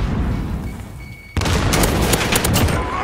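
Gunfire in a first-person shooter game, a sudden loud burst of rapid shots that starts partway through and continues as a dense crackling volley after a quieter rumbling stretch.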